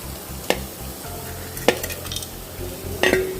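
Ginger garlic paste, slit chili and whole spices fry in a pan for tomato rice: a soft, continuous sizzle runs close, punctuated by three sharp metal spoon clinks against the pan.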